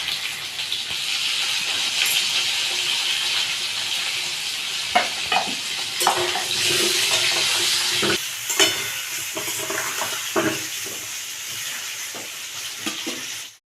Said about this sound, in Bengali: আলুটা ভাজার সময় আমি একটু অল্পটুকু নুন আর অল্পটুকু হলুদ দিয়ে আলুটাকে ভেজে নেবো